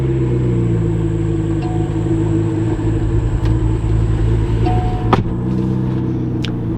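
Steady, loud low rumble of a McLaren MP4-12C supercar engine, heard from inside the car, holding an even drone with a brief click partway through.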